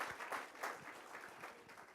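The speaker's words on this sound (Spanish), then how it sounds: "Dele un fuerte aplauso a nuestro Dios por eso" Applause from a congregation at a church service, a steady wash of clapping hands that stays fairly even throughout, moderately distant.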